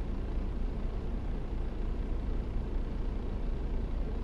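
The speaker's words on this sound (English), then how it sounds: "Get our truck started here." A truck engine idles after starting in American Truck Simulator, a steady low rumble with broad noise and no voices.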